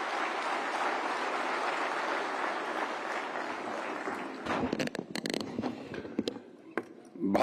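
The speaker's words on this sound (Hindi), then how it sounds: "तालियों के साथ स्वागत करें केंद्रीय वस्त्र मंत्री श्री गिरिराज सिंह जी का।" A hall audience applauds steadily to welcome India's Union Textiles Minister Giriraj Singh at a National Handloom Day event, the dense clapping fading after a few seconds into scattered claps and crowd noise.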